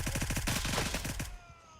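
A rapid automatic magazine dump rattles out in Gray Zone Warfare: about twenty tightly spaced, punchy shots in an even burst, then a sudden stop into a quiet tail.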